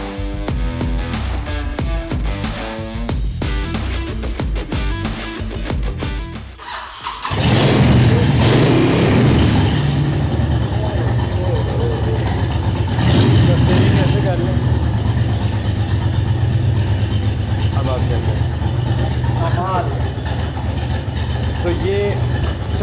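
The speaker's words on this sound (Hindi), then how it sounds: "इसको स्टार्ट करके तो पहले इसको जी आपको इसकी साउंड चेक कराते हैं इसकी।" A 1300cc motorcycle engine cranks and fires after someone speaks, then settles into a loud, steady, close idle with occasional revs that swell and ease back.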